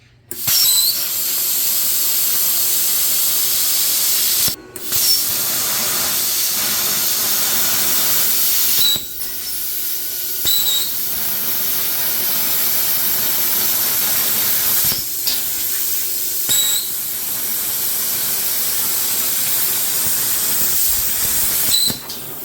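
An Arccaptain Cut50 plasma cutter running at 30 amps through 18- to 10-gauge sheet metal gives a steady, loud hissing roar. It holds for over twenty seconds, broken only by a few brief cutoffs.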